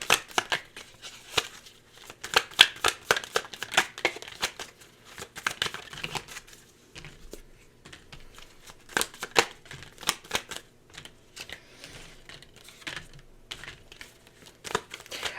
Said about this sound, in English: Let's pull some cards and see.